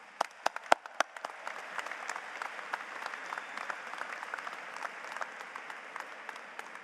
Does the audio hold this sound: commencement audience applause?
yes